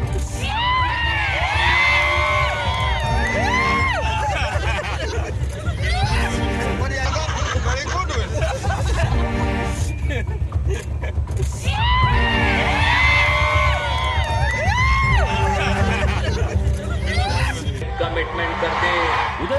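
A gathering of party workers bursts into whooping and cheering after a politician's birthday greeting in Satara, loud excited shouts and yells rising in waves over music and a busy background of voices.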